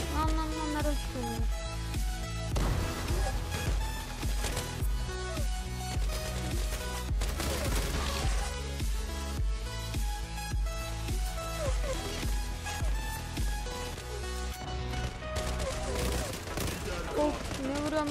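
Gunfire from the online shooter Zula, dense and continuous throughout, with bursts of rapid automatic fire blended under a steady layer of game music and effects, while a player talks intermittently.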